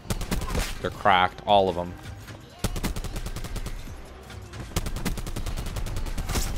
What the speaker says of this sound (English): Honestly, I think the CORDITE might be my favorite SMG.